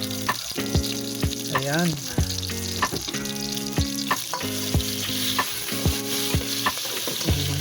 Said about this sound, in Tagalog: Lagay natin yung kamatis.